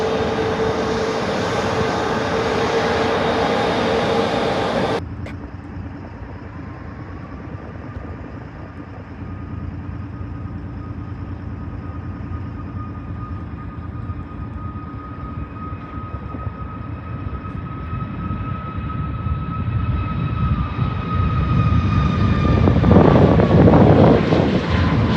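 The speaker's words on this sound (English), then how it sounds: "The 737 MAX 8 is actually a pretty quiet airplane." Boeing 737 MAX 8 jet engines roar steadily at a distance, a low rumble with a faint whine that builds and swells loudly near the end.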